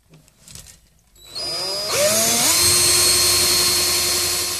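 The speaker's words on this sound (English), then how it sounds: "I'm gonna drill a little more here." A power drill bores a pilot hole in a closet for a screw hook. After a quiet start the motor whirs up, climbing in pitch in steps, then holds a loud, steady whine.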